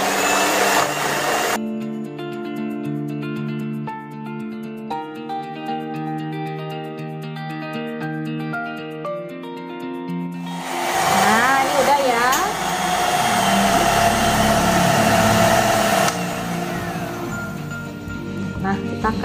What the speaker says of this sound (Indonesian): Saya sudah tuangin telur dan gula pasirnya ya. Kita kocok sampai creamy banget, itu sekitar 8 menit ya.